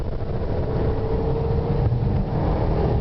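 A Porsche Panamera Turbo accelerates hard through a corner at speed, heard from inside as a loud steady engine drone with rising road and wind roar and no voices.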